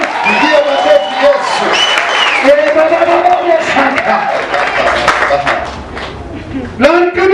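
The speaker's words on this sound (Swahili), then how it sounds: "Put your hands together and then give a clap" A church congregation applauds while a preacher's loud voice carries over the clapping. The applause stays underneath the speech, with a sharper burst near the end.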